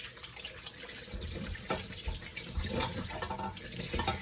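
Scallops are gently rinsed under a running kitchen tap, giving a steady close splashing flow of water with small shifting gurgles as the shellfish are handled; no voices.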